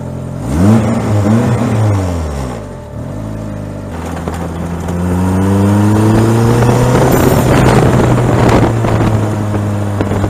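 Ariel Atom sports car engine catches on the starter, idles briefly, then revs up into a sustained, rising roar up close, with no talking.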